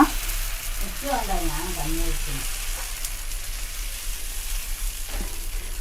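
A wheat dosa sizzles steadily on a hot pan, with a brief murmur of a voice early on under the frying.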